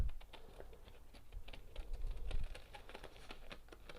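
Scissors snip into the curved neckline of a paper pattern, producing a rapid series of soft, close, crisp clicks and crunches of cutting paper at a quiet level.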